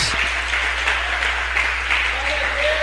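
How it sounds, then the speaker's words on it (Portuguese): A church congregation applauds loudly in a steady, dense wash of clapping, with a low hum running underneath throughout. "Agora vamos aplaudir bem forte a palavra"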